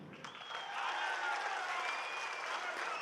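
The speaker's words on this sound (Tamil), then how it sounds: "தொண்டர்கள், நிர்வாகிகள் அப்படியே ஆரவாரம் செய்கிறாங்க." Party supporters and officials cheer and clap at a political gathering, a distant crowd roar that swells after a moment and holds steady.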